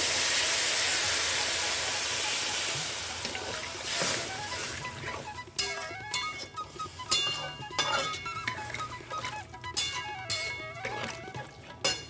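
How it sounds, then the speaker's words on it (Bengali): Warm water poured into a hot frying pan of sautéed ingredients for sambar dal sets off a broad, steady hiss that gives way to irregular spitting and bubbling crackles. "এর মধ্যে এবার আমি দিয়ে দেবো পরিমাণ মতন জল জলটা অবশ্যই একটু উষ্ণ করে দেবে"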